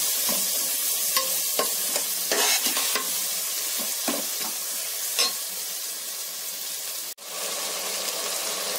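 Onions and peas frying in oil and ghee in a pan: a steady hiss broken by repeated scraping stirs of a spoon, close and fairly loud.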